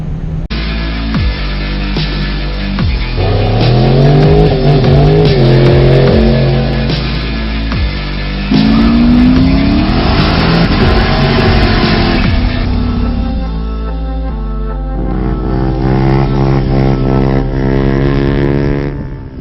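A Mustang with a Chevy swap and stiff, poor suspension drives along, its engine loud and close as it revs up through several gears with rising and falling pitch, then settles to a steadier drone.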